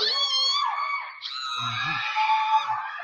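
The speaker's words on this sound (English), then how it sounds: "the mom is screaming too, like acting it up" A woman screams shrilly on a Bigfoot home-invasion video played back, with long, wavering, high-pitched cries and a short dip in the middle before the screaming resumes.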